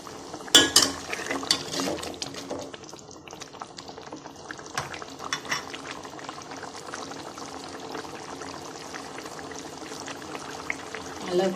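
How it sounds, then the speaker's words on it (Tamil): Egg curry bubbling in a pot on high heat, a steady close bubbling and simmering hiss with occasional sharper pops and clinks throughout. "நல்லா கொதிச்சிருச்சு."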